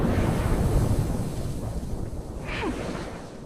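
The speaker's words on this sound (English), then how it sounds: "Giant cryogenic geysers are shooting water, methane, and organic molecules straight into space." Giant cryogenic geysers on Enceladus blast water, methane and organic molecules into space with a steady, roaring rush like heavy surf and wind, swelling slightly with a brief whistling sweep near the end.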